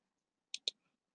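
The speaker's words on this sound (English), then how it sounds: "We press tab from the keyboard" Two quick, crisp clicks of the tab key on a computer keyboard sound close together in a quiet room, with nothing else around them.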